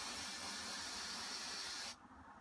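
A can of L'Oreal Magic Retouch root concealer gives off a steady, close aerosol hiss for about two seconds, then cuts off abruptly.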